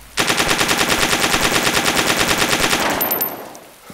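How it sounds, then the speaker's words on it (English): A PM73 RAK submachine gun in a video game fires one rapid, evenly spaced burst of about 25 rounds, loud and close, ending in a brief fading echo. "Here's 25 rounds without fighting the recoil. And here's 25 again with fighting the recoil."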